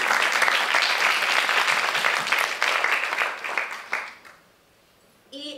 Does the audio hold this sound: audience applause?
yes